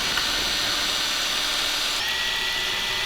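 A power drill bores out a small bolt hole for an e30 to e36/e46 steering rack conversion spacer, a steady loud whirring grind that runs continuously with a slight pitch shift partway through.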